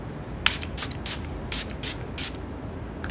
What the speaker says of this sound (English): I'm going in with a spritz of setting spray at this time.